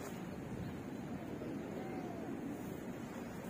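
Steady wind rushes and rumbles against the microphone during a tent pitching without letting up, a constant low buffeting with no voices.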